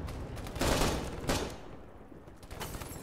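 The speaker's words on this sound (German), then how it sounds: "werden schon heftig beschossen" Heavy gunfire in the Arma 3 game set in Cold War Germany: a dense fusillade of overlapping bursts and booms rolls in waves, loud and continuous, easing slightly before more shots.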